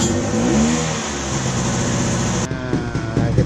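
A 1995 Vespa Corsa scooter engine warms up nearby, a steady, loud, buzzing idle with slight revving swells and a shift in tone partway through.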